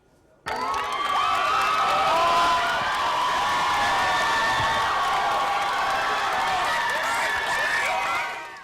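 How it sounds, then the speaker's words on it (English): A large crowd outside a courthouse erupts in loud cheering and whooping at a murder-trial verdict, the roar starting suddenly and holding steady for several seconds in the open air. "A huge cheer erupted outside the courthouse today when word of the Jodi Arias verdict reached the crowd."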